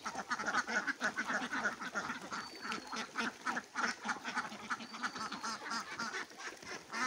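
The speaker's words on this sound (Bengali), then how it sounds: "সকালে যখন হাঁস ঘর থেকে বেরোয়, এটা একটা দেখার মতো একটা দৃশ্য" A flock of farm ducks quacks busily as they leave their duck house in the morning, a continuous overlapping chorus of calls at moderate distance with no talking.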